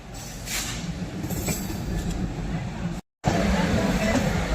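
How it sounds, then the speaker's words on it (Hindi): A Vande Sleeper train is brought onto a platform at Howrah with a loud, steady rumble of rolling rail cars and faint wheel squeal, cut by a brief silent dropout before resuming. "भाई ये ट्रेन प्लेटफॉर्म पे लगाई जा रही है, वंदे स्लीपर ट्रेन हावड़ा के"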